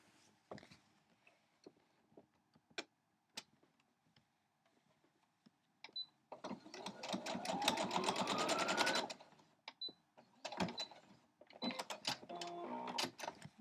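A sewing machine stitching an 8-point star quilt block, a few scattered clicks and handling taps, then a steady close whirring run of rapid stitching for about three seconds, followed by a shorter burst and fabric shuffling, no talking.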